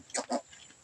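Two quick grunting squeals from a pig that has just given birth, close and moderately loud, followed by quiet background.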